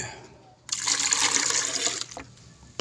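Water pours steadily into a blender for over a second, a close, splashy stream that stops abruptly, followed by a faint clink.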